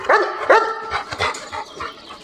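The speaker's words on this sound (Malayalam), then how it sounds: "ഇത് നിങ്ങളുടെ നായയാണോ?" A dog gives two sharp close barks, then a string of softer whimpers and whines in a Malayalam radio drama scene, loud at first and fading to faint yelps.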